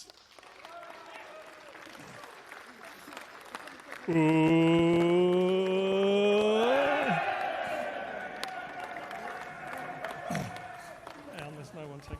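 An indoor crowd at a box league sports event cheers and claps for the winning team, the Knights, a loud swell of applause and whoops that rises abruptly and fades slowly, with a voiced exclamation over it.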